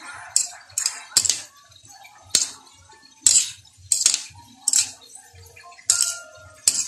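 Cucumber salad with mayonnaise being stirred in a bowl, a spoon or utensil clinking against the dish in a series of sharp, irregular taps over about seven seconds, close and fairly loud, with no talking.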